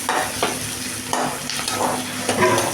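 Onions and ground tomato fry in a pan with a constant sizzle, broken by several scraping stirs of a spatula at irregular intervals, close and fairly loud.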